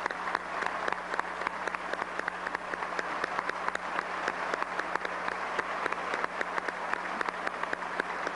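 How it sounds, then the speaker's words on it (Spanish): Sustained applause from a summit audience welcoming the president of the Dominican Republic, Leonel Fernández, at the opening of a CELAC summit; dense, steady clapping from a large crowd, moderately distant and continuous throughout. "Un aplauso para Dominicana"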